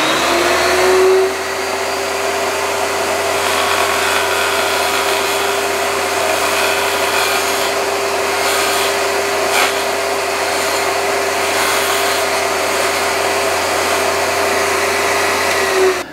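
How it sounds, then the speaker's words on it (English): A table saw blade cuts a tenon on the end of a wooden wheel hoe handle, turning it into the blade with a loud continuous whirring drone and steady high hum that holds for about fifteen seconds, without talk. "I'm just going to show you that procedure of turning the end into the blade to see the tenon diameter"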